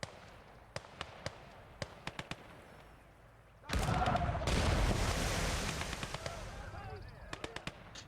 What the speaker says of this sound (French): On a notre canon qui commence à pilonner cette position là.